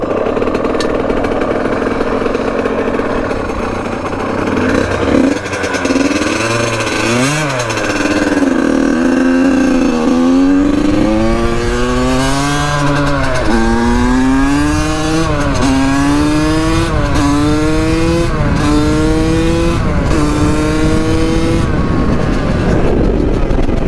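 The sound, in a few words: Yamaha YZ85 dirt bike engine running and revving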